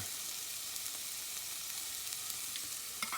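Chipotle and other ingredients sizzle steadily in a hot pan for huevos rancheros, a close, even frying hiss with a few faint pops and no voices.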